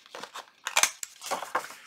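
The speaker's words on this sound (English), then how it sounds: "We're going to corner round the corners." A corner rounder punch rounds the corners of paper for a junk journal double pocket policy envelope, making a quick series of crunchy clicks and paper scrapes, close and loud, with no talking.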